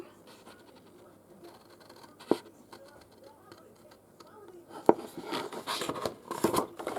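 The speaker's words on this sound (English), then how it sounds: "So let me just cut these flaps as well, like that." Scissors cutting paper flaps for an album box, a few sharp snips and scratchy rustles close up, growing busier toward the end, with quiet speech around them.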